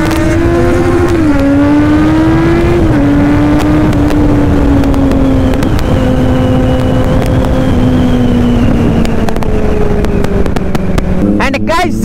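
A Kawasaki Z900 superbike roars past at full throttle, a loud sustained engine note rising and shifting through gears as it passes close, with a second superbike present and a sharp burst of revving near the end.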